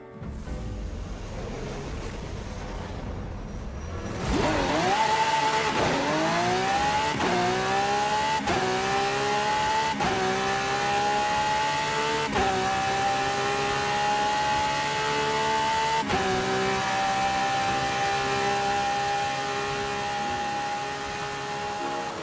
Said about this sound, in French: on passe dès maintenant au test de la voiture sur la piste de drag